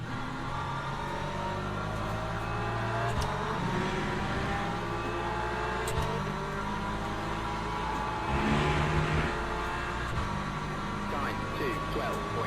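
A hypercar engine in the Le Mans Ultimate racing game drones and shifts pitch steadily throughout, mixed with other race cars and a commentator's voice speaking over it.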